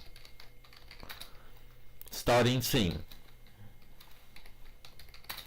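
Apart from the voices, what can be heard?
typing on a computer keyboard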